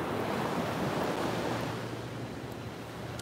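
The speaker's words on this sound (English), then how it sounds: "you can hear these beautiful waves as you fall asleep" Ocean waves break and wash ashore in a steady, close roar of surf that swells slightly and then eases, with no voices.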